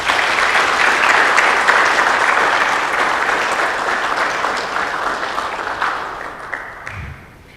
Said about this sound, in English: I want us to clap for them and applaud them for the work that they have done.